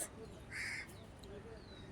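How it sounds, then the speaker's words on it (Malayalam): A single faint caw from a crow rings out briefly over quiet outdoor background noise. "സൈഡിൽ നിന്നൊക്കെ കാക്ക വരുന്നു."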